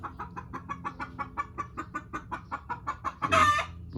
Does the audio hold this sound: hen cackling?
yes